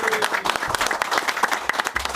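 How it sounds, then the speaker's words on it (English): A capacity crowd at a live comedy show claps for a comedian, a short burst of dense, lively clapping with distinct sharp hand claps throughout. "Give Alan Judge a big round of applause."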